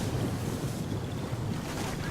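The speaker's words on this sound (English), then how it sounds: "it's a nice water effect there, isn't it?" Continuous rushing water and wind-like wash in the Total War: Attila battle game as lancers cross a swamp, a steady broadband roar with no clear breaks.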